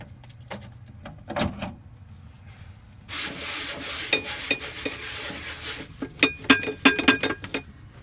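A greasy range hood filter from above a van cooktop is scrubbed clean, with short scratchy strokes at first, then a long continuous rubbing burst and more quick sharp scrubs at the end.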